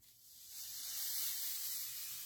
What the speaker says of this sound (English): Let me get close so you can hear the sizzle.